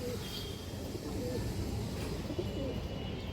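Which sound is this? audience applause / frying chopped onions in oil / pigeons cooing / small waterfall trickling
pigeons cooing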